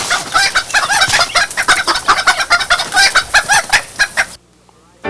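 Chickens clucking loudly and continuously in a dense, busy flock chorus, close up and alone, with a brief rooster crow among them, cutting off abruptly near the end.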